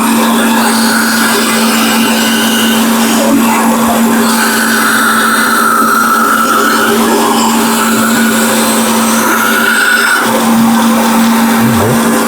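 A bandsaw fitted with a sharp blade cuts through a wooden board. The steady motor hum and whine of the blade continue unbroken and fairly loud, with the cutting tone rising and falling slightly as the wood is fed.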